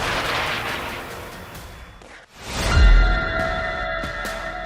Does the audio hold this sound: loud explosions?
yes